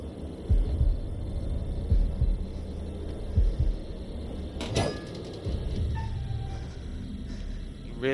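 A heartbeat effect from The Dark Pictures: The Devil in Me video game thumps in low, regular double beats under a faint ambient hum, followed by a sharp swishing sound and a rising tone near the end.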